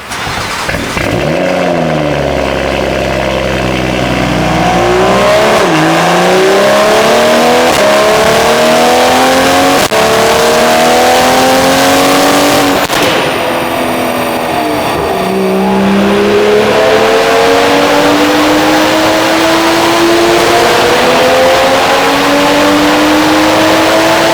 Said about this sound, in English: Now let's start the car and listen to what it sounds on a cold start.